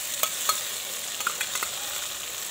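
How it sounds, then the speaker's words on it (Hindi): Chopped tomato drops into golden fried onions in a hot pan, setting off a steady close sizzle with a few soft spatula knocks and stirring scrapes over it. "अब हम इसमें टमाटर डालेंगे"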